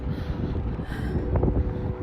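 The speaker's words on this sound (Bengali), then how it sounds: "হাওয়াও দিচ্ছে আর মেঘও করেছে দেখতেই পাচ্ছ" Wind gusts buffet the microphone outdoors on a cloudy day, a low rumbling roar that stays steady and close throughout, with no voices.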